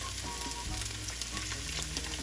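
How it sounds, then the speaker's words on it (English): Chicken breast frying over high heat in a pan, giving a steady, loud, continuous sizzle with crackling spits throughout, close up, with no talking. "can you hear that sizzling"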